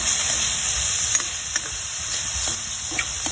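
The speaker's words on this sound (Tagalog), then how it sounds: "Ating manok, lagyan na po natin siya ng konting butter." Chicken breast frying in butter in a pan, a steady close sizzle with occasional stirring scrapes running throughout.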